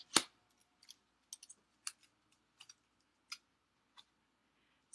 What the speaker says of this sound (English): So let's die cut those out.